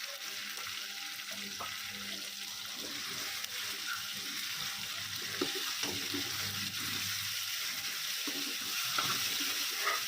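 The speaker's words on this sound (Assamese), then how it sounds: "মাছৰ ফিচাখন দি আকৌ ভালদৰে মছলাখিনি ভাজি থাকিম" Spices frying with fish pieces in a pan for a taro leaf dish, a steady close sizzle with light scraping and occasional clinks throughout.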